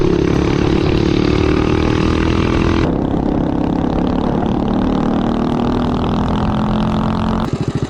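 A minibike's small gasoline engine drones loudly up close on a road. The steady running changes pitch partway through and picks up a throbbing pulse near the end.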